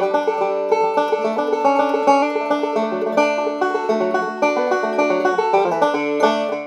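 A 5-string banjo plays backup on a fiddle tune, with a steady stream of bright, ringing plucked notes and rolls. It is close and continuous, with no voices.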